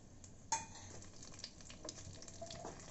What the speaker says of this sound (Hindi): जब ये जीरा चिटचिटाना बंद कर दे